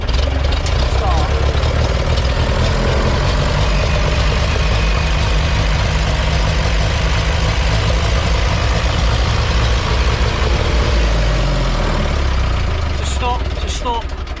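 A little yellow Ferguson tractor engine starts with the hand throttle fully open and runs at a loud, steady, close chugging idle, falling away near the end.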